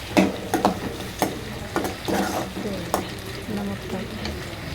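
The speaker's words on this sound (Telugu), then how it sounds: "ఇప్పుడు టమాటా కూడా వేసినాక అంతా అట్లా మిక్స్ చేసేసుకోవాలి" Chopped tomatoes sizzle in a hot pan for ridge gourd curry while a spoon stirs and scrapes the pan in irregular knocks over the steady frying hiss.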